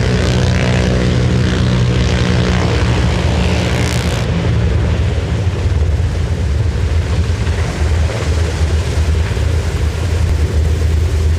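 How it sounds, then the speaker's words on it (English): An MH-60 helicopter hovers about 20 feet above a yacht during a special operations demonstration, producing a loud, continuous, rumbling rotor and engine roar that holds steady throughout. "Our MH-60 is hovering about 20 feet above the vessel"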